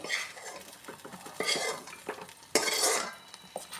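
A spoon stirs sabudana kheer with dry fruits in a pot, making intermittent scraping and metallic clinks against the pan with a faint bubbling, close and unaccompanied by talk.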